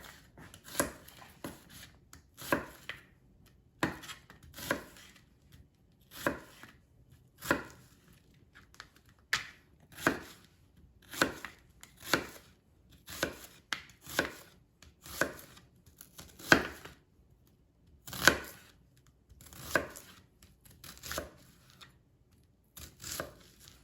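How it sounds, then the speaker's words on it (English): Knife slicing through onion halves on a cutting board, a steady series of about twenty crisp, close chops spaced roughly a second apart, with no talking. "And now just take onion halves and slice them into slices."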